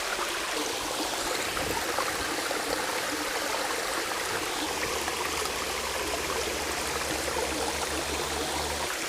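Water cascades down a waterfall in a dense, steady rushing roar, loud and unbroken, with a faint low hum joining partway through.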